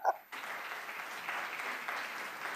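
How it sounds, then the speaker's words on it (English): Light smattering of audience applause in a conference room during a talk, a brief scattered clapping that starts after a short pause and continues steadily. "Smattering of applause for Amanda"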